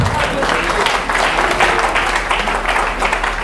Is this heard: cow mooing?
no